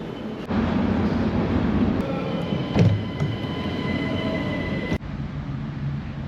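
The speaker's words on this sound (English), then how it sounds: "I was rushing to get the train" A train at a railway station platform, a loud continuous rumble of wheels and rolling stock with thin metallic squeals and a sharp clank near the end, close by and uninterrupted.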